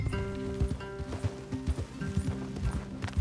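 Horses in the video game Red Dead Redemption 2, hooves clip-clopping in an uneven walking rhythm over low ambient game music, close and moderately loud.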